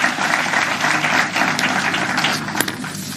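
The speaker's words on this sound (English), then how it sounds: "I would like to give them a big applause." Sustained applause from an audience at a Chris Hani remembrance event, a steady wash of clapping hands at even loudness throughout with a few sharper claps standing out.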